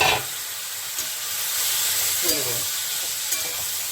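Ridge gourd fries in a pan for a mung dal dish, a constant close hiss and sizzle with a few faint taps of stirring and no talk.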